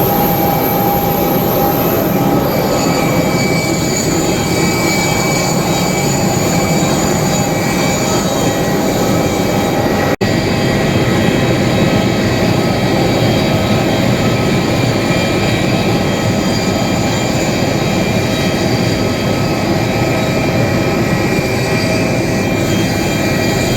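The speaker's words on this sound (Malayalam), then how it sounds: "ഇതാണ് അമൃത്സർ എയർപോർട്ട്." Aircraft noise at Amritsar airport: a loud, unbroken jet roar with a whining tonal hum, steady and close, and no talking.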